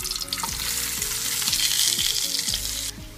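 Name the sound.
herbs heating in olive oil in a frying pan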